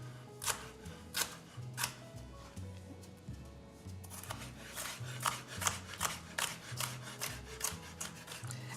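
A knife dices a strip of green pepper on a cutting board, making quick repeated taps in a steady rhythm, close and fairly quiet, with brief pauses between runs of chops.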